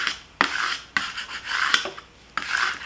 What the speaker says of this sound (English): I'll grab a scraper tool here, and we're going to burnish, which just means to push down on the front.